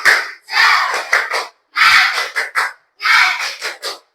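Classroom of students doing a rhythmic clapping and chanting cheer, three loud bursts of group claps and shouted syllables separated by brief pauses, close and energetic.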